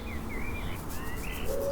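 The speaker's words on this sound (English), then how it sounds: "A little cuckoo in a reed warbler's nest." A cuckoo chick calls from a reed warbler's nest, giving a few thin, high chirps close by over a steady outdoor hiss.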